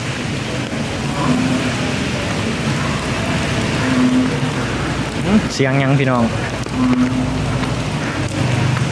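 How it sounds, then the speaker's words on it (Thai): Steady rain hisses under a Thai expressway, a dense continuous wash of noise with traffic rumbling beneath, while someone talks briefly in the middle. "ฝนตกแน่ เปียกแน่"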